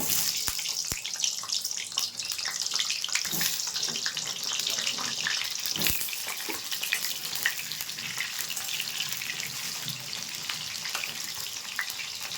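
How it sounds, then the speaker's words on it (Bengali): Potatoes frying in mustard oil in a hot wok, a loud, steady close-up crackling sizzle lasting throughout with no voices. "আলুটা আগে ভেজে নেব।"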